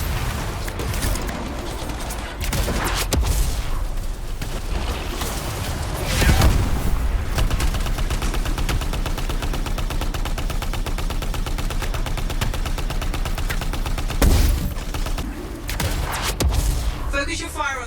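Sustained automatic gunfire in the video game Anthem, aimed at crystals, a dense loud stream of shots with heavy booming impacts and a few sharp blasts, mixed with game effects.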